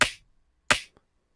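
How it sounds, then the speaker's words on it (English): Snare drum click run through a tape-emulation plugin, struck three times: two sharp, bright hits with short decaying tails spaced well apart, then a third hit at the very end, each standing alone with no voices. "With the tape on, it sounds like this."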